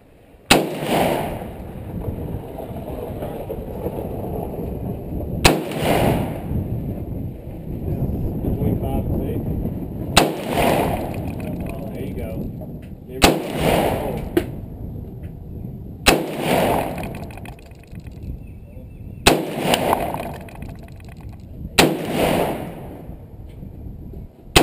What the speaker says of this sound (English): So I figured I'd take it out to the range and shoot it just a little bit.